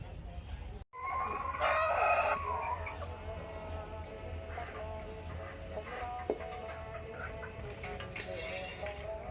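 A rooster perched in a tree crows loudly once near the start, a long harmonic call standing out against a steady outdoor background hum and faint birds.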